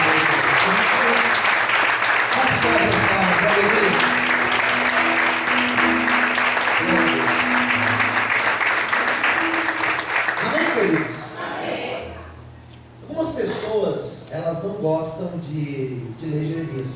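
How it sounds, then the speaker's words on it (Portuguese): A church congregation applauds loudly and steadily for about eleven seconds, dense clapping over music, then the clapping thins and fades as a voice starts talking. "Será que você pode aplaudir?"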